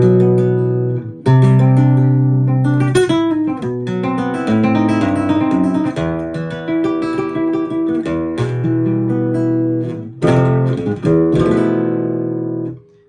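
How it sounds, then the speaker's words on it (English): Flamenco guitar built by Jose Salinas, its pickup plugged straight into an amp with no reverb or effects, played with rapid strummed rasgueado bursts and plucked runs, loud and dry, pausing briefly near the end. "I'm using here my Elamir signature model flamenco guitar built by Jose Salinas, and I'm plugged into an amp, no reverb, no effects"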